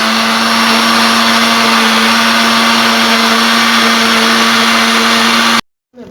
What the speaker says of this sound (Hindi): मिक्सी में मिक्स कर दूँगी और यहाँ मैं इसे मिक्स कर दूँगी।